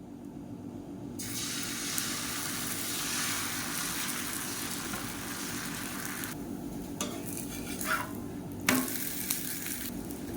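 Dosa batter cooking on a hot griddle, a continuous close frying hiss that surges loudly as fresh batter meets the pan, then settles, with a few brief scrapes and clinks near the end and no voices.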